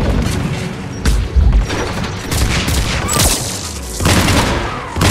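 Heavy gunfire from the video game Mass Effect 3 during a Rannoch mission, loud bursts and booming shots overlapping in a dense, chaotic fusillade with no talk.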